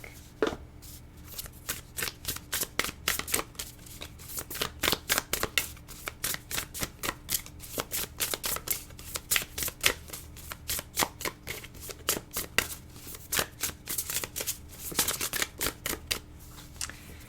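A deck of tarot cards is shuffled over and over in quick, crisp riffles and flutters, close up and steady, with no voices.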